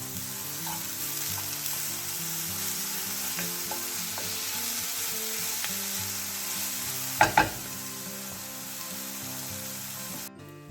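Brown sugar caramelising in a frying pan for a steak sandwich, a steady close sizzle and bubbling crackle with a couple of brief louder clatters near the end.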